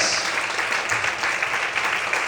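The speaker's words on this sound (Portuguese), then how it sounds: "Você pode aplaudir o Senhor nessa noite?" A congregation applauds during an evening church service, a thick, steady burst of many hands clapping close and loud for a couple of seconds.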